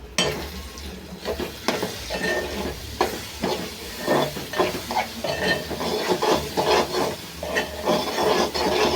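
Eggs fry with onions in a pan as a utensil stirs and scrapes in quick repeated strokes. The sizzle holds steady underneath, close and moderately loud, with no talking.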